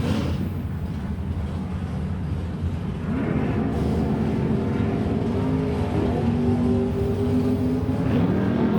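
Drag strip run pitting a 1962 Corvette against a 1968 Camaro, engines roaring loudly and steadily under crowd and track ambience, with pitch climbing through the run as the cars accelerate.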